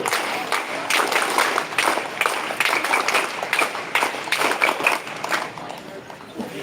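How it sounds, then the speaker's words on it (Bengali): A school assembly of students does a scout clap, loud rhythmic group clapping in quick bursts from a crowd, steady throughout. "স্কাউট তালি বাজাও জোরে"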